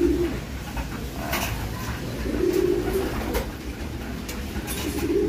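Racing pigeons coo in repeated low, throaty phrases at a loft during training, the soft rolling calls recurring every second or two over steady background noise with no talk.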